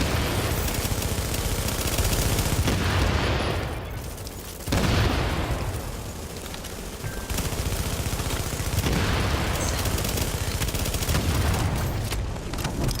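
Assault rifle gunfire from a video game firefight set in a snowy terminal during a blizzard, with dense, loud volleys of rapid shots and booms running almost continuously, briefly dipping near the middle before resuming.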